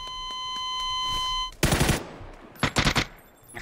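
Automatic weapon fire in the battle royale shooter PUBG, a long loud burst of rapid shots followed by a second shorter burst, near and sharp, with faint electronic tones before it.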